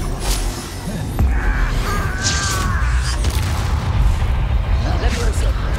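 A spell blast in the video game Hogwarts Legacy: a sudden booming impact followed by dense, loud combat noise and magical whooshes, with voices talking over the fray.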